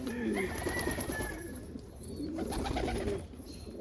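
Pigeons coo softly inside a loft, low rounded calls repeating in uneven bursts with a few higher chirps, fairly close but modest in volume against a quiet, faintly hissing room.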